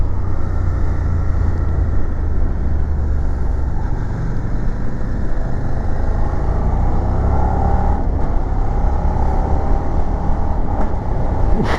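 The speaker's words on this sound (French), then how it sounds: "l'embrayage était pas beau, on a entendu le bruit que ça a fait" Motorcycle on the road circuit at the Linas-Montlhéry autodrome, running loud and steady with engine drone and wind while downshifting, a rough clutch slip standing out briefly near the end.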